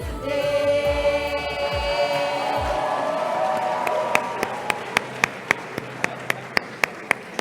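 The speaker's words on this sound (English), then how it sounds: "Another round of applause to the choir." Applause for a choir at a faculty's 40th anniversary celebration begins as sung music fades, building into crowd clapping with a few sharp rhythmic claps standing out near the end.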